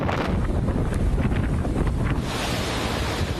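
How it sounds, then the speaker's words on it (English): Hurricane Dorian, a Category 5 storm, roars over the Bahamas with 185 mph winds, a loud and unbroken rush of wind buffeting the microphone, mixed with surging surf. "Roaring into the northern island Sunday with a 185 mile per hour wind"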